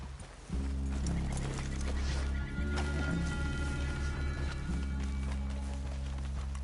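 Horses clip-clopping at a steady trot in Red Dead Redemption 2, loud and close, with a brief whinny and some clattering over a continuous low rumble.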